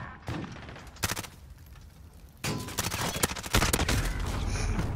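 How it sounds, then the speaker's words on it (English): An RPG rocket launcher fires during a Call of Duty Search and Destroy match, amid a dense burst of gunfire and booms that rises in loudness and density through the stretch with no talk. "someone's shooting a fucking RPG on our team"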